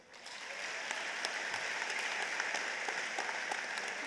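Broad, steady applause from a large crowd at a high school commencement ceremony swells quickly and holds as a continuous wash of clapping, heard at a moderate distance.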